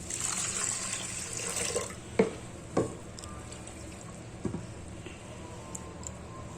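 Water splashes and trickles into a pressure cooker with a broad hissing wash, then a few clanks of metal, quieter settling liquid afterwards.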